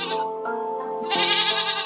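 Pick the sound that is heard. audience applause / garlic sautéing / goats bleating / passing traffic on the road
goats bleating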